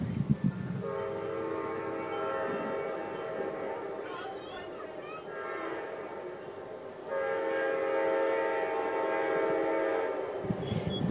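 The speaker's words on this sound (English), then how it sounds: "Here comes the train." A train passes on a cold night, its horn sounding in long, steady blasts that break off and then return, over a continuous rumble, heard from some distance.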